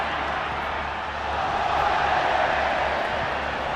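Big stadium crowd at the 2011 Gold Cup final between Mexico and the USA, a constant distant roar of cheering and noise that swells slightly midway and stays steady beneath the broadcast.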